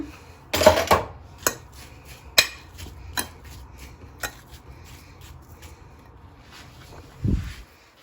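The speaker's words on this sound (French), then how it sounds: "On mélange le tout." A spoon clacks against a mixing bowl while apple cake batter with sugar is stirred, several sharp scattered knocks and scrapes at close range, ending with a heavier thud.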